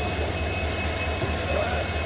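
Steady low rumble of a train at Bareilly Junction railway station in India, a continuous droning hum with a faint high whine over it, heard early in the morning with no talking.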